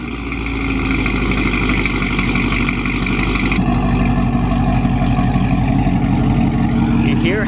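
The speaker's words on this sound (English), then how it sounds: "this is what a Corvette exhaust should sound like" A C7 Corvette engine fires up and settles into a loud, deep idle, its exhaust giving a steady low rumble that swells slightly partway through, close and continuous.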